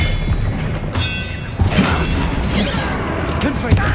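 A disarming spell cast in the Hogwarts Legacy video game: dense booms and thuds with mechanical clatter, set in a busy, continuous game soundscape with no pauses.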